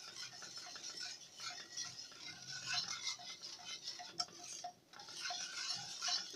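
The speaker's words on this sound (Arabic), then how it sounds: "هفضل اقلب كده عشان النشا ما يكلكعش معايا والشوكولاتة تسيح بسهولة" Chocolate and starch being stirred in a small pot over a low flame, a soft continuous scraping and light clinking of a utensil against the pot, faint and close, with no talking.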